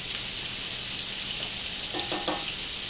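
Flour-coated chicken frying in hot oil gives a steady, bright sizzle that fills the whole clip, with faint clinks and a stir partway through and no talk.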